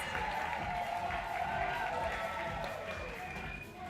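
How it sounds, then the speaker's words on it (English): Crowd at a bouldering grand final in the Sydney Boulder Series: a sustained roar of cheering and clapping from many people, loud and continuous, fading slightly at the end, with voices mixed in. "And the crowd roars."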